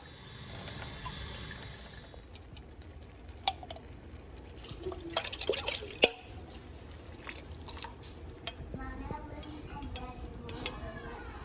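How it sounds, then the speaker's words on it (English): Water is poured into a kitchen container to rinse out leftover tomato sauce, with quiet trickling, drips and small splashes plus a few sharp clinks in a calm kitchen. "I'm gonna add a little bit of water in there to get the rest of that out."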